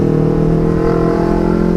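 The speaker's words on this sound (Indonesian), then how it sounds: "harus pakai knalpot yang racing gitu loh, biar suaranya dapat gitu" A big motorcycle fitted with a racing exhaust revs loud and close, its deep engine drone held steady and throbbing for a moment with no talk.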